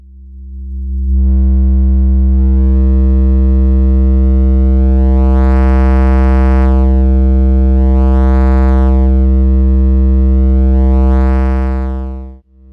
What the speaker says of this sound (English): Here we get a nice kind of a square wave when clipping the sine wave-like wave.